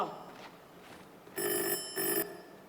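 A telephone rings on stage during a Telugu play, two short electronic ring bursts in quick succession after a quiet moment, moderately loud in a hall.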